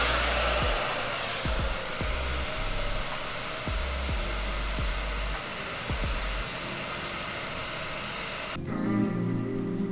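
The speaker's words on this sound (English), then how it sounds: "you hit your diffuser, you turn it on, and at the same time you give it a little pull" A hair dryer fitted with a diffuser blows with a loud, steady broadband whoosh and a low rumble, and periodic soft thumps underneath, before cutting to a different, quieter tone near the end.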